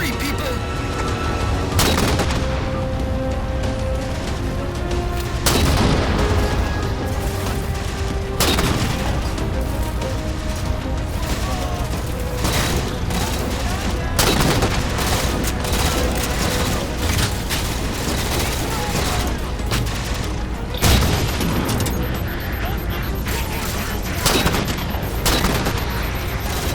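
Loud, dense Halo 4 combat: constant automatic gunfire, with heavy booming explosions every few seconds over a rumbling battlefield bed, and voices calling out now and then beneath it.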